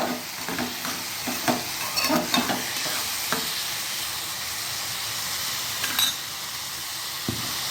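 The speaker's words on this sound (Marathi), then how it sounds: "आपले मूग टाकून झालेत व्यवस्थित ते परतवून घ्यायचे" Mung beans stir-fried in a hot pan, giving a constant hissing sizzle with scattered scrapes and taps of a spatula, heard close and with no talking.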